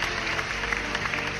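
A short round of applause plays as a sound effect, a steady wash of many hands clapping at moderate volume, with no talking over it.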